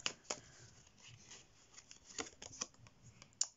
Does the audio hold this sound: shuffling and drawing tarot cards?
yes